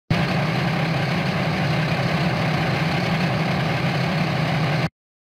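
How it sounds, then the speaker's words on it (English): A fuel truck's heavy diesel engine idles at close range, a steady low rumble with a broad even roar and no change in pitch, running alone for about five seconds before it cuts off. "Fuel truck."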